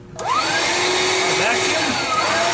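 A Hoover Linx cordless vacuum cleaner runs with a loud, steady whirring drone that starts abruptly and holds unbroken, with a faint shifting whine riding on top.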